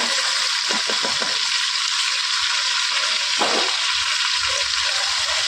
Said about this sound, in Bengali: দেখুন মাছটা সবটাই ভাজা হয়ে গেছে এবার আমি তুলে নেব